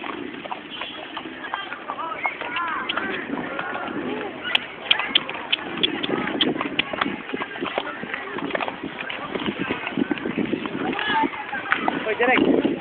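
Horse hooves clip-clop steadily at a trot, close by, in Tagaytay, while people chat over the rhythmic beat.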